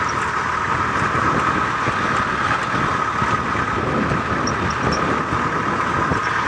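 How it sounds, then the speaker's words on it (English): A safari game-drive vehicle pushes through thick mud with its engine held at high revs, a steady, fairly loud and unbroken drone with no talk over it. "sorry if the vehicle sounds a little bit loud, it's just that I'm keeping the revs up"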